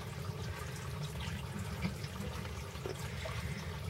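Water poured into a corn snake's enclosure, a soft steady splashing and trickle held at a low, even level throughout, close by with no voices.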